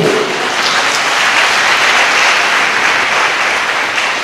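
A church congregation claps loudly and steadily in praise to God, a dense, continuous wash of many hands with no let-up.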